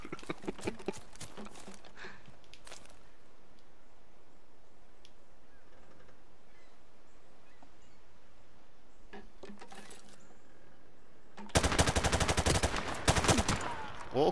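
Rapid bursts of gunfire crackle in Call of Duty: Modern Warfare at the start, then a long quiet stretch, followed by a loud, sustained volley of shots near the end.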